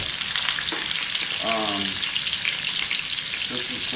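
Potatoes and bacon frying in a pan make a dense, continuous crackling sizzle, close and fairly loud, with a few brief scraping stirs and no talking.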